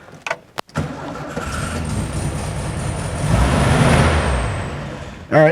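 A 1972 VW Karmann Ghia air-cooled engine is cranked and catches, a few sharp starter bursts then a steady running rumble that swells louder toward the end, with a short burst at the close.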